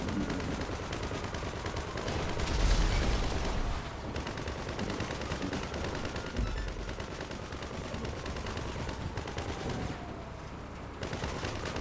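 Rapid gunfire from a GTA 5 tank battle rattles on steadily for the whole stretch, with dense bursts and a louder swell near the start, all set against a constant roar of game noise.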